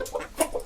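A young turkey cock clucks and gobbles in short, close, choppy bursts over a brief moment, with no talking.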